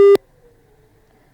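After a phone call is cut off, one short beep of a telephone busy tone sounds loudly, then the line drops to near silence.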